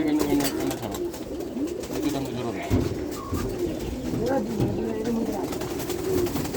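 Paired pet pigeons coo in a cage nearby, giving soft repeated throaty rolls at a steady pace while people talk over them.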